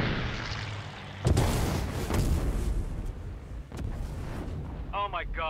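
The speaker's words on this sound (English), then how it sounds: "Mother Goose 1 has been shot down." A plane struck by a missile explodes in the Ace Combat 7 video game, with a sudden heavy boom followed by a rumbling roar, then a second, softer blast.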